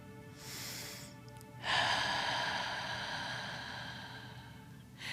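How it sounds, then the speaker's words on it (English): A church congregation breathes together: one long audible exhale, a brief pause, then a deeper, louder breath out that slowly fades, soft and close with no talking. "So let's breathe together. Breathe and breathe out."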